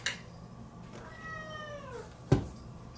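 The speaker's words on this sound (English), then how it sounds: "There's my kitty again." A pet cat lets out a single drawn-out, falling meow in a quiet kitchen during coffee maker testing, with a soft clack from nearby objects just after.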